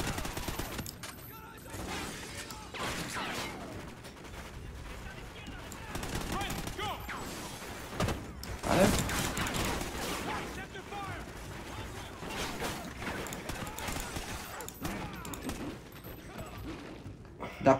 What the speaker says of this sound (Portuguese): Eu errei muito tiro.